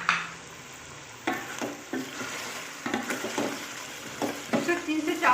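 Chicken frying with ginger in a karahi makes a soft, low sizzle under a series of distinct stirring and scraping strokes that grow busier toward the end, heard close up.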